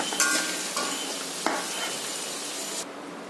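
Potatoes fry in hot oil for a bhetki fish kalia, a steady loud sizzle broken by a few sharp scrapes and clinks of a spatula stirring in the pan, then quieter toward the end.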